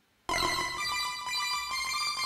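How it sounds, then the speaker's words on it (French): A phone rings loudly and close after a short silence, its bright electronic tone sustained without talk, heard during a music-composition session. "le téléphone sonne ici"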